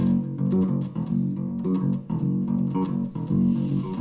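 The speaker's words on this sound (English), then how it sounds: "So the main bass riff of this song sounds like this." A low electric bass plays a short repeating riff of punchy notes with a steady groove, up close and clear, without any talking.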